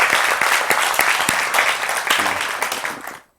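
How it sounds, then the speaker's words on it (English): An audience bursts into loud, dense applause for a guest at a church-style gathering. The clapping holds strong, then fades out abruptly at the end. "give him a hand clap from Bahamas"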